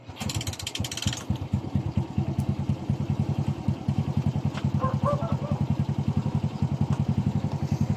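A Suzuki Smash 115 motorcycle, under repair for an electrical wiring and regulator fault, starts up with a brief crank and then settles into a loud, close, steady rapid-chugging idle.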